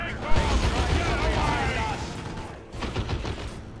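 Ork Shoota Boyz firing their guns in Dawn of War II: Retribution, a dense, continuous rattle of gunfire and clattering battle noise that runs loud for about two seconds, dips briefly, then picks up again.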